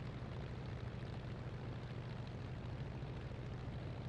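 La-7 piston aircraft engine running steadily in a flight simulator, a faint, even drone with a low throbbing hum and no change in pace.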